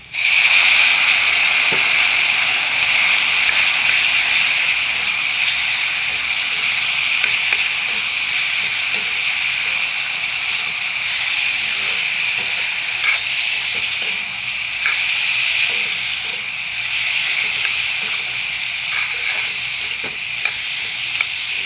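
Garlic sizzles loudly in a hot pan after a little water is added, giving a continuous hissing, steaming fry with occasional faint stirring taps, close and alone, without speech.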